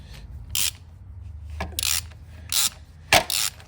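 A long 18 mm wrench unscrews the spark plug of a Honda FX 650 motorcycle engine, giving four short rasping, ratcheting bursts in an uneven rhythm, close and fairly loud against a low hum.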